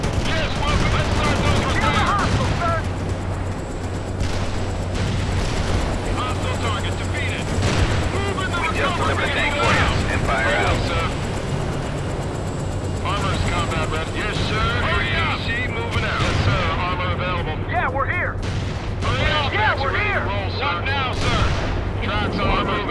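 Gunfire and artillery rumble in World in Conflict, a dense, loud battle bed of low booms and crackling shots running continuously beneath frequent radio-style voices.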